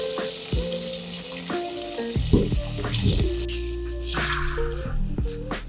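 Buttermilk chicken pieces frying in hot oil in a wok, with a continuous sizzle and crackle, moderately loud and close, under occasional stirring and clattering.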